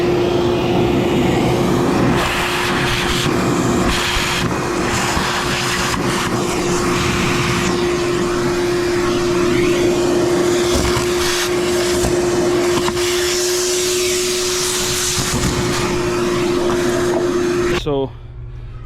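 A vacuum cleaner runs loud and close with a steady whine, cleaning the engine bay of a Mazda B2200/B2000 pickup truck, the pitch shifting slightly as the nozzle moves, then cutting off abruptly at the end.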